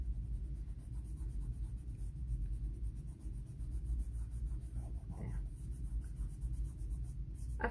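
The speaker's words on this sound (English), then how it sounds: "you can color it down. Color it down. This is pastels." Soft, steady scratchy rubbing of a pastel stick across paper, continuous and close, with a brief word spoken near the end.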